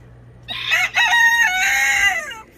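A rooster gives one loud, close crow lasting about two seconds, with a rising start and a long drawn-out tail, in a backyard chicken yard at feeding time.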